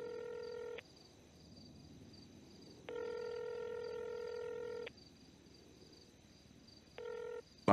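A newly installed payphone rings for an incoming call: three bursts of electronic tone, the first two long and evenly spaced and the last cut short, over a quiet room background.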